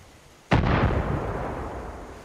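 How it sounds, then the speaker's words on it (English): Mortar fire in the video game Far Cry 5 lands as one heavy, booming blast with a long rumbling tail that fades slowly, with no talk over it. "Somebody's got the mortar in action going."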